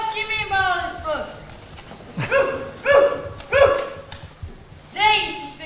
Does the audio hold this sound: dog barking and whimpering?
yes